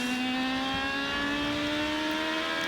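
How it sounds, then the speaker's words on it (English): An IndyCar race car on the Twin Ring Motegi oval in the 2011 IZOD IndyCar Series, its engine droning loud and steady as the throttle goes down out of a corner, pitch climbing gradually throughout. "you can hear how he puts the throttle down"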